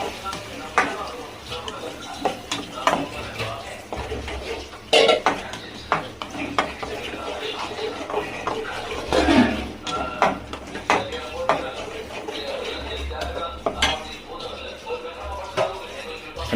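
A spoon stirs a blended onion and tomato paste in a cooking pot, scraping and clinking against the metal over a soft sizzle, with occasional voice nearby.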